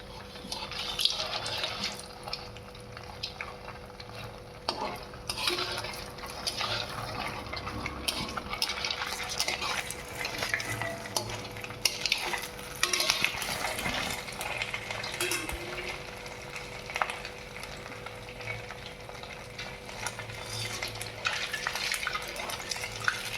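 Capsule-shaped semolina pieces frying in hot oil for a sweet, a steady bubbling sizzle with light crackles and occasional utensil stirring sounds running throughout, with no talk.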